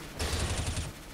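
Gunfire in a competitive video game match, a short quick burst of rapid shots lasting under a second, fairly faint and alone.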